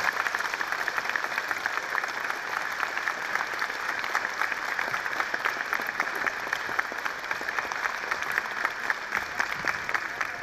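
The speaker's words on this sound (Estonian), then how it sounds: "Aplaus ja tänu teile." An audience at the Paide Gümnaasium 105th school anniversary applauds, a dense, even patter of many hands clapping steadily throughout at moderate volume.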